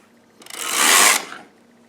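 Carriage of a Sister toy knitting machine sliding across the needle bed as a plain hem is knitted off, a single close whirring sweep lasting under a second, rising and fading without talk.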